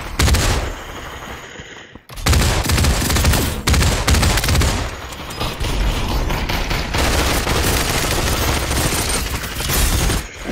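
Rapid gunfire from the VR shooter game Population: One crackles in dense, sustained bursts with booming impacts, loud and continuous apart from a brief gap near the start.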